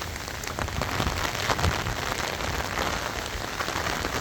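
Heavy rain pours down onto a rooftop in a dense, steady hiss of drops, moderately loud and continuous without any voices.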